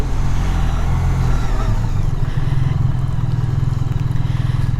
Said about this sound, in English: It's almost like a whine, almost like a triple whine, at least at low speeds.